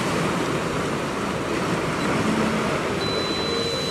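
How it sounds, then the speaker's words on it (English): Surf rolls in at Petrol Cove, a steady broadband wash of breaking ocean waves and white water heard up close, with no voices. "I want one almighty wave to come through now."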